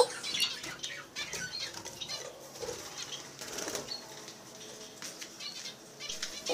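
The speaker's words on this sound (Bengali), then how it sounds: "এটা অনেক চঞ্চল পাখি, এটা এক থেকে অন্য জায়গায় গেলে 1 সেকেন্ডও লাগে না ওদের" A small finch flutters and darts about a bird cage, giving quick bursts of soft wing flapping and light pattering over a steady indoor background hiss, close and fairly faint.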